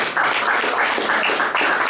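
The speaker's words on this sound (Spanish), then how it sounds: "Y un aplauso grande al Señor" A church congregation claps steadily for about two seconds, a dense, even wash of hands with no voices over it.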